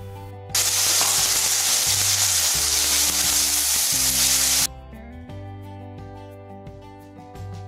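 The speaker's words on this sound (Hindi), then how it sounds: "आलू जो हैं वो हमारे फ्राई हो चुके हैं, अच्छे से पक गए हैं।" Finely diced potatoes, washed and cut small as for poha, sizzle and fry loudly in hot oil with steady broadband hiss, then the sizzle drops to a quieter crackle as stirring continues, with no talking.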